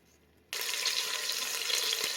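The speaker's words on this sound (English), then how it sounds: "Do you hear that sizzle? That's what we want to hear while cooking our roast." Loud, steady sizzling of roast meat browning in an Instant Pot starts abruptly after a brief quiet moment and continues unbroken, a dense crackling hiss close by.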